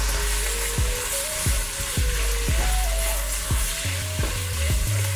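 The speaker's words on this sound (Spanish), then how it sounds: "Después de 2 minutos le vamos a echar un chorrito de vinagre." Vinegar splashed into a pan of frying onion and carrot, sizzling loudly and steadily with a series of sharp stirring knocks against the pan at irregular intervals, close up with no talking.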